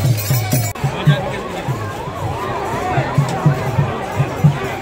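A large crowd of devotees waits for the Puri Rath Yatra chariot festival, with a steady murmur of chatter and scattered shouts rising and falling around the listener, fairly close and continuous.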